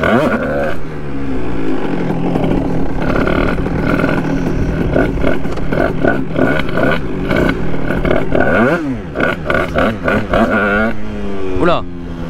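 A motorcycle being ridden by a learner practising wheelies, the engine revving and rising in pitch as the clutch engages, loud and close throughout, with someone talking over it.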